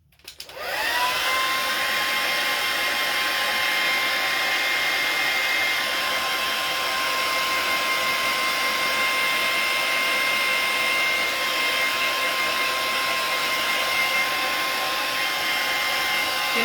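A hair dryer blows to dry a freshly brushed sea turtle painting, giving a loud, steady close-up whir that starts abruptly and runs unbroken with no talking.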